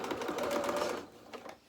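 A sewing machine stitches a seam for a Luna Lapin milliner's waistcoat toile, a steady fast mechanical whir close up that stops after about a second, leaving a few faint clicks.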